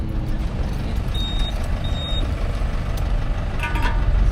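A large vehicle reverses beside a road, its backup alarm beeping at a steady interval over a loud rumbling engine and passing traffic noise.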